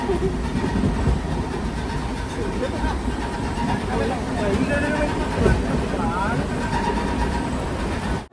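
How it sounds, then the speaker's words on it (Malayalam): The Mangala Lakshadweep Express rolls into a railway station with a loud, continuous rumble of wheels and carriages, rising slightly midway, as voices carry on over the noise. "ട്രെയിൻ ഇപ്പോൾ ഗാണ്ഡുവ റെയിൽവേ സ്റ്റേഷനിലേക്ക് എത്തിയിരിക്കുകയാണ്"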